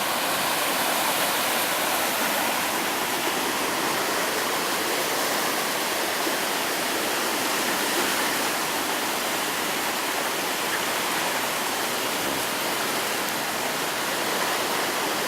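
Swollen creek floodwater in Arvada, Colorado rushes loudly and steadily, a dense unbroken roar of moving water close by with no pauses and no voices.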